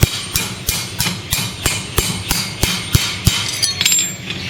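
A farrier hammers a racing plate on a horse's hoof, giving a rapid, regular series of about a dozen sharp metallic taps, close and loud, slowing and fading near the end.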